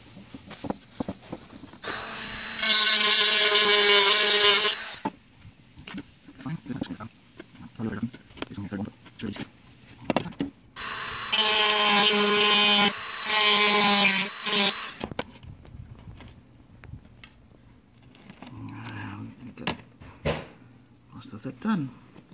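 A rotary tool grinds down a terrarium part for a spider enclosure in two loud, sustained whining bursts, with quieter scraping and handling noises between them.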